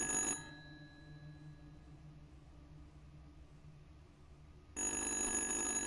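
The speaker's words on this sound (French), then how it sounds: "Décrochez ce téléphone." A telephone rings in the horror video game Little Hope, a bright bell-like ring that sounds briefly at the start, falls silent under low ambient hum, then rings again loudly near the end.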